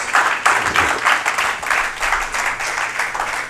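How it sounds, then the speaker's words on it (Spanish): A church congregation applauding at a Bible study gathering, a steady, sustained wash of many hands clapping, close and fairly loud. "Dale palmas al que viene"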